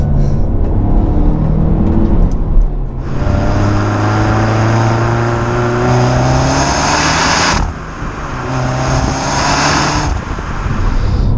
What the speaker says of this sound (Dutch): Wanneer je voet helemaal plat ligt en je de 3000 toeren aantikt, de turbo's helemaal zijn opgespoeld en je letterlijk waar wordt gelanceerd.